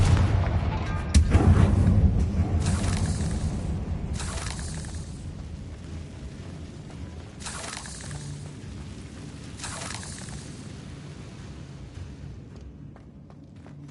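Confringo fire spells explode repeatedly in Hogwarts Legacy, a loud boom up front followed by several sharp blasts spaced a couple of seconds apart over a low rumbling game backdrop.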